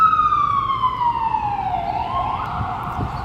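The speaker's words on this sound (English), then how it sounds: "because there's a huge giant ambulance coming." An ambulance siren passing close by on the road, a loud steady wail whose pitch slides downward as it goes past, with traffic rumble underneath.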